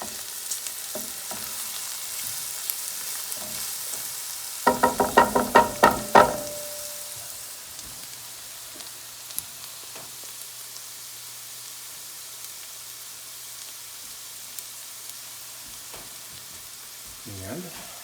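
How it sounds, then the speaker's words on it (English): Garlic dropped into a pan of caramelizing onion bursts into a loud, crackling sizzle for about a second and a half, then settles to a faint simmer, heard up close with no talk. "So now I'm putting in the garlic, letting it simmer in there for just a minute or so."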